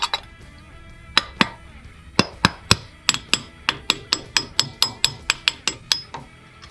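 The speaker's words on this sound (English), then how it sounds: "we'll just hammer in this cover" A metal wheel hub cover being hammered into a Toyota Tacoma hub during wheel bearing replacement: about twenty sharp, ringing metallic blows, sparse at first, then a quick steady rhythm, close and loud.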